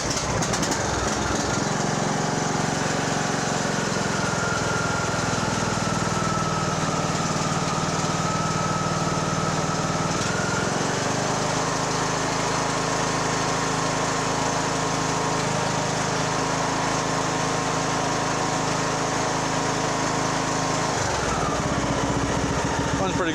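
A Poulan Pro 185A42LT riding mower being refurbished for resale cranks with the choke on, catches and settles into a steady running drone, the engine pitch shifting slightly partway through and staying loud and continuous throughout.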